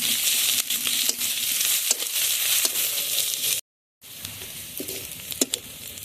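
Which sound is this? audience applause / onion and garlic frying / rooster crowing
onion and garlic frying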